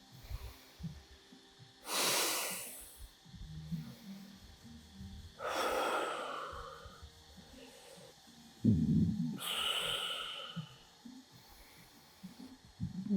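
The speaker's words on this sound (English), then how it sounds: "Cleansing breath." Deliberate cleansing breaths during a core breathing exercise, three separate forceful exhales spaced a few seconds apart, close and breathy against a quiet room.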